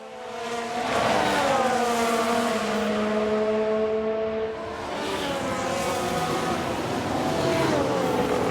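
Whining Ferrari Formula 1 engine in F1 Manager 22, a sustained high-pitched drone with rising and falling pitch as the car accelerates and shifts, steady and loud throughout.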